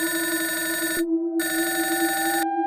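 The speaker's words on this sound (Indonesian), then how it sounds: "Telepon berdering lagi." A telephone ringing in two long trilling bursts separated by a short pause, loud and close, an insistent electronic bell with a buzzing rapid pulse and no voices.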